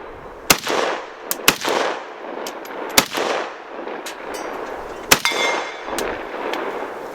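Colt M16A1 rifle firing single sharp gunshots outdoors, five or six loud cracks spaced irregularly, each followed by a short echoing tail.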